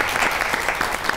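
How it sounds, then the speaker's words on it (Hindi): Brief burst of audience applause on a comedy talk show, a quick dense patter of clapping from a studio crowd. "ताली होनी चाहिए था"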